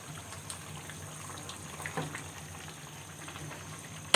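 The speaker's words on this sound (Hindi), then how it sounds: "अब हम इसमें टमाटर ऐड कर देते हैं" Chicken karahi frying with tomatoes in the pan gives a soft, steady sizzle and crackle, faint and close, with a slight swell partway through.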